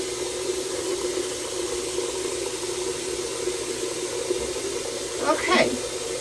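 Water running steadily from a sink tap while a bubbling clay face mask is rinsed off, a constant close hiss with a brief splashing swell near the end.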